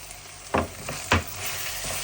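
Capsicum and spices fry in a hot pan for a crispy beef roll filling: a steady close sizzle broken by two sharp stirring scrapes, then an even hiss.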